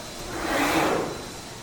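The door of a CNC machining center slides open in one smooth, soft whoosh lasting about a second, fairly close against a low steady hum.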